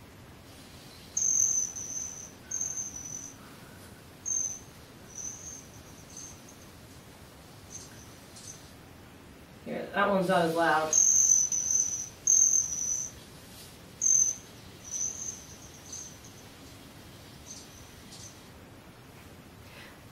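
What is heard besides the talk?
hummingbird calls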